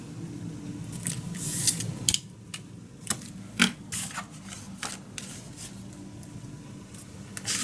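Tape is pulled and pressed onto a handmade paper mini album, giving soft crinkling, sharp peeling and tearing snaps, and scattered crisp paper handling sounds close by, with no talking.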